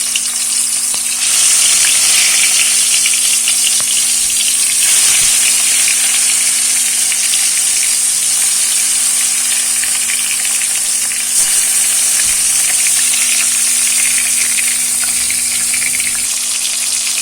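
Pieces of fish sizzle steadily in hot oil in a pan as a Bengali fish curry is prepared, a loud continuous frying hiss with faint crackles, close up and without talk.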